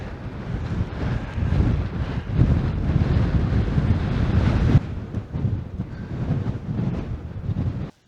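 Strong wind buffets a mountain ridge on Košuta, roaring steadily across the microphone with rushing gusts that ease briefly midway before surging again, loud and close with no voices.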